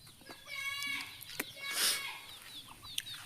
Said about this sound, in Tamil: கோழியெல்லாம் அங்கிட்டு விரட்டிட்டு போங்க